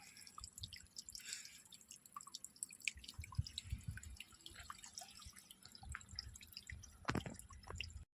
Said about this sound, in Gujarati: અંદર પડે પાણી, ધીરે ધીરે પડ્યા રાખે.